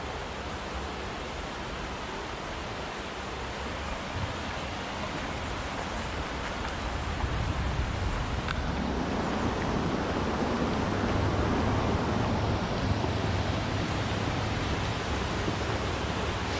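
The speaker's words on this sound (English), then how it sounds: "Love hearing the flow of the water." Steady rushing water flows continuously along the Neath and Tennant Canal, a broad even wash that swells slightly louder midway and stays constant throughout.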